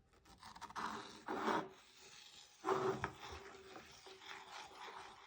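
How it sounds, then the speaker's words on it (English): A spatula scrapes and rubs sugar around in a pan while making dalgona candy, with soft uneven strokes and a few louder scraping bursts, faint and close with no talk. "take a spatula and mix this up"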